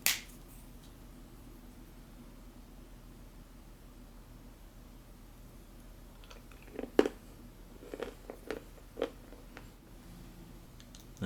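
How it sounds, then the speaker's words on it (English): Hard, crunchy chocolate bar bitten and chewed close up, a handful of sharp crisp cracks and crunches arriving in short bursts after a long quiet stretch. "As you probably could hear, it's quite crunchy. It's very hard chocolate."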